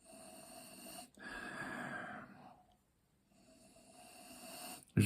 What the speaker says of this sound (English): Right, let's have a proper Chuffing sniff now.